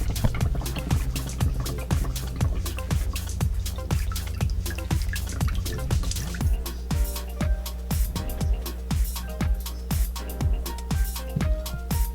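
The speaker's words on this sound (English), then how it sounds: "So I'm going to fill the bottle up slowly." Hand sanitizer gel is poured slowly into a bottle, making a steady run of small drip-like plops and ticks. The sound is close and moderately quiet, with no voices.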